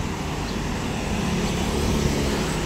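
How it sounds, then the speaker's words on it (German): Street traffic in Rethymno, Crete: a continuous broadband rumble of passing cars and engines, steady and fairly loud, with no talk. "Wir sehen hier auch ein bisschen den Verkehr."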